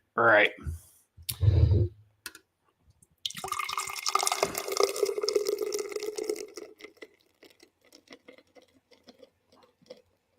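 Paulaner Oktoberfest Festbier pours from a large can into a liter glass with a steady gurgling, splashing rush of liquid that fades into soft fizzing and dripping. Short bursts of speech and clicks come first.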